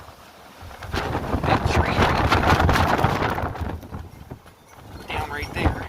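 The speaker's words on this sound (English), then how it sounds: "high wind warning, winds up to 60 miles an hour or more" Strong wind gusts of up to 60 mph buffeting the microphone outdoors during a high wind warning as trees and branches break, a loud rumbling roar swelling and easing, with someone speaking briefly over it.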